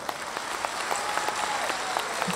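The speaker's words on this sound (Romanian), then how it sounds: "să o aplaudăm!" Audience applause at a Romanian folk concert for Bucovina Day, a dense, steady patter of many hands clapping with sharper individual claps standing out, sustained throughout.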